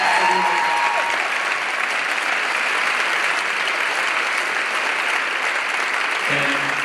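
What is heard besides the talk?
applause at announcement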